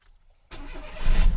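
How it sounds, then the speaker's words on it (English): A Fiat Panda 4x4 car engine cranks and catches after a quiet moment, then settles into a steady, loud running note close by, with no speech. "If I start the engine up, there we go."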